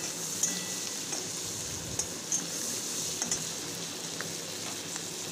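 Dry chilli, garam masala, bay leaf and cumin sizzle in hot oil, a soft continuous crackle with scattered small pops and a few light utensil taps, quiet and close.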